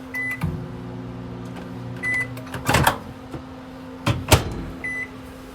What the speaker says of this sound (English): Otherwise, microwave.